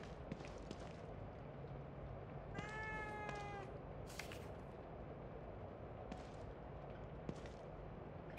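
A single cat meows in The Evil Within 2, a short wavering cry at moderate distance over a low ambient game drone, with faint clicks around it.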